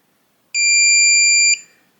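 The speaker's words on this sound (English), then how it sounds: "Once you hear that long beep," A single long, high-pitched electronic beep from a Weiser Elements keypad deadbolt sounds steadily for about a second in an otherwise quiet room, then cuts off.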